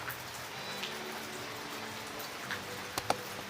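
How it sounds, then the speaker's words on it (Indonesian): Steady rain falls during a dark late-afternoon meal outdoors, a soft, even hiss of drops with a few sharper taps near the end, heard alone without voices. "Hujan."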